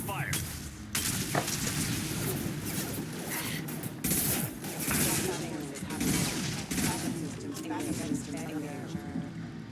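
Rapid video-game gunfire from a sci-fi shooter crackles in dense, overlapping bursts with heavy booms throughout, mixed with voices talking over the action.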